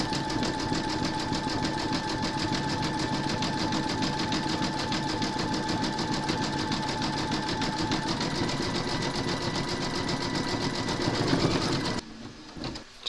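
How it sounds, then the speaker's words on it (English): A Brother embroidery machine runs steadily, zigzag stitching around raw fabric edges on a Santa design, a fast, even mechanical whir with rhythmic needle clatter, close and continuous before it stops abruptly near the end. "we're now going to stitch round number 7, and that's going to zigzag around all the raw edges of"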